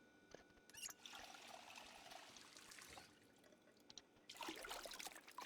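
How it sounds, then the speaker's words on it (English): Water trickling and pouring steadily as a bottle is filled in the survival game Project Zomboid, faint and continuous with a brighter burst of splashing near the end. "Let's fill our water bottle too."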